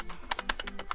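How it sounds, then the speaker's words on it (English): Several quick, fairly quiet key clicks on a USB keyboard connected to a Steam Deck, tapped in rapid succession over about a second. "maybe all it needs is for me to hit enter on the keyboard"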